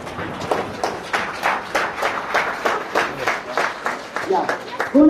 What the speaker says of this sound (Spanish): Fuerte aplauso a Jesucristo.